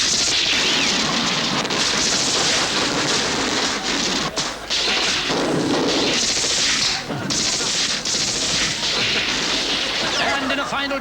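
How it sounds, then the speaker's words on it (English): A 21-gun salute of artillery fire at a ceremony, a dense, loud stretch of overlapping blasts and crashes that continues without a break, with brief dips between volleys. "This is quickly followed by a 21-gun salute."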